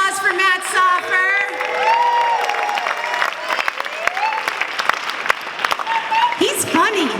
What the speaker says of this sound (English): Another round of applause for Matt Soffer